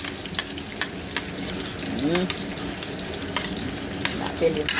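Onions frying in a pan for a home-cooked vegetable dish, a steady close sizzle with occasional stirring scrapes and light clinks, alone without talk.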